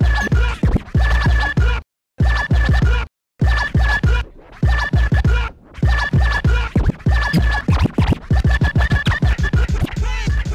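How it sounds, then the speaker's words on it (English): A DJ scratches a vinyl record on turntables while working the crossfader, producing rapid chirping, warbling cuts in choppy bursts with brief silent gaps, reminiscent of R2-D2 beeps, loud and alone. "So it'll make it sound like R2-D2 from Star Wars."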